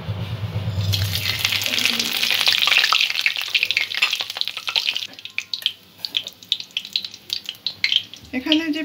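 Whole cumin, a dried chili, four cloves, two cardamom pods and two bay leaves drop into hot oil with a loud burst of sizzling that gradually breaks into sparser crackles and pops.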